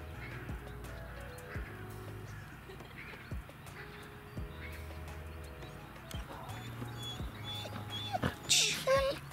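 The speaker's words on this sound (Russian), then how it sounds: "Увидела собаку. Начинает скулить." A Rottweiler whimpers and whines in short, repeated high cries, fairly faint and mixed with other outdoor sounds, while people talk softly nearby.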